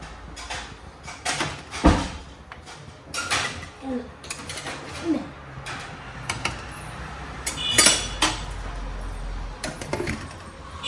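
A lid set on a cooking pot of simmering gravy in a home kitchen, with clattering metal clanks and scrapes, some louder knocks among rattling pot and utensil noise, close by.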